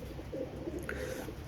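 A young teddy pigeon pair coos softly and steadily at close range, a low murmuring throat call with no voices over it.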